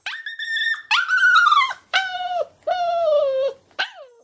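A puppy in a crate whines in high, drawn-out cries, five tonal whimpers in a row with short gaps, close and fairly loud, no other sounds.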